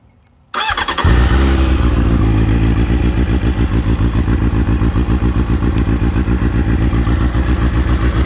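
A 2003 Triumph Speed Four motorcycle engine cranks after a short quiet moment, catches and settles into a loud, close, steady idle with rapid even pulses that carry on to the end.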